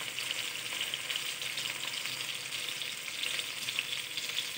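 Shrimp paste (bagoong) sautés in a pan for a mung bean and shrimp dish, giving a constant, even hiss of frying oil at moderate volume with no talking.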